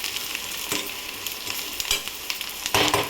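Village-style curry ingredients browning in oil in a pan, a steady loud sizzle and crackle broken by periodic scraping stirs, with no voices.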